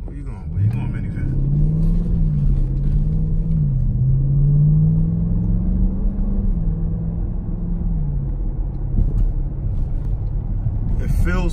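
Cabin rumble of a 2018 Dodge Durango SRT on Mopar lowering springs driving over bumps, a steady low road and engine drone throughout with someone talking over it.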